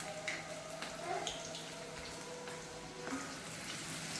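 Chicken lollipops deep-frying in oil at medium heat, a batch of five: a faint, steady sizzle and bubbling with small crackles throughout.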